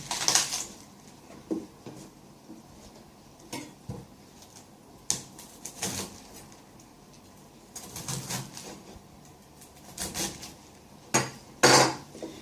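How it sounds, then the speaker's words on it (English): A knife chopping through cabbage on a board while preparing sauerkraut, giving scattered sharp cuts and knocks at irregular intervals, close and fairly quiet with no speech. "I'm going to cut out the core, I think the heart as well they call it."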